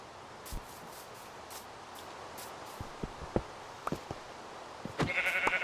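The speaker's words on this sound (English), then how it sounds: "Another sheep dead." Sheep in the Minecraft video game give a few faint, scattered bleats over a quiet background, joined by soft thuds and clicks, with a brief tone near the end.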